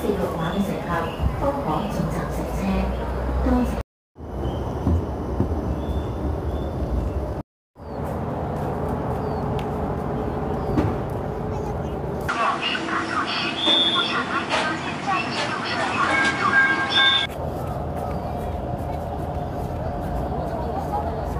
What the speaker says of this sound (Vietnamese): Chân tháp Quảng Châu là một tuyến tàu điện mặt đất chạy dọc theo bờ sông Châu Giang,